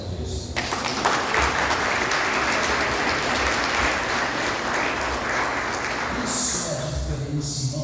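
A church congregation claps for Jesus in a loud, continuous round of applause that runs the full length, with voices faintly mixed in and a brief brighter burst near the end.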